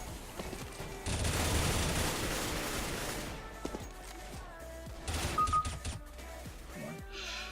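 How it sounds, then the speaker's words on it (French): Rapid spray gunfire into a wall in the shooter game CS:GO, heard as a dense burst of automatic shots followed by scattered, quieter shots and faint game sounds. "Quand il a tiré dans le mur, hein, c'est juste pour s'entraîner son spray"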